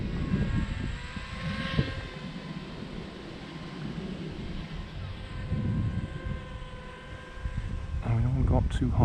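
Silverlit X Flying Club twin-engine toy biplane buzzing in flight outdoors on a windy day, a thin steady motor whine beneath gusty wind noise and people talking throughout.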